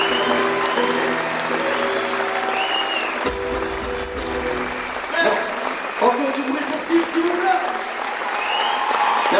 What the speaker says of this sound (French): Applaudissez-vous bien fort, applaudissez tous les artistes ici sur scène